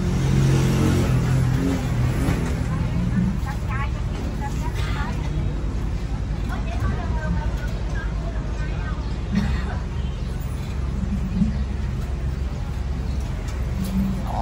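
Steady drone of motorbike and road traffic passing continuously on a Vietnamese street, loud and close the whole way through, with people chatting nearby underneath the engine noise.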